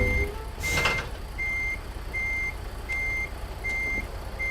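Truck reversing beeps from American Truck Simulator sound as an evenly spaced string of about six high tones while the truck backs up to a trailer, with a faint low engine hum underneath and a brief whoosh early on.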